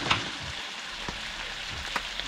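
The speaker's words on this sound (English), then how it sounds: "I am stir-frying up some chicken thighs, boneless, that I had cut up" Cut-up boneless chicken thighs stir-frying in a pan give a steady broadband sizzle, with a few soft clicks and scrapes of stirring throughout and no talking.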